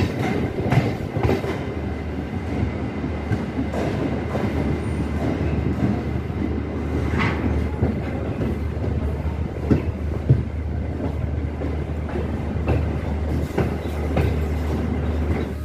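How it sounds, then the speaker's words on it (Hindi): Chhapra-Sonpur MEMU express train pulling into Sonpur station, a steady loud rumble of railcars with rhythmic clickety-clack of wheels over rail joints and occasional faint squeals, no voices. "ट्रेन पहुंच चुका है अपने डेस्टिनेशन सोनपुर"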